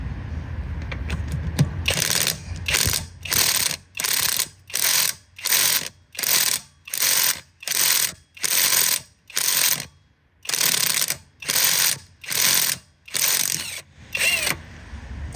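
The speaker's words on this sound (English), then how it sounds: "Alright, maybe I should try the impact. So, in the 4th settings." A cordless impact wrench on its fourth setting hammers at over-torqued car lug nuts, firing in about a dozen loud, evenly spaced rattling bursts with short pauses between them, close up and with no talk.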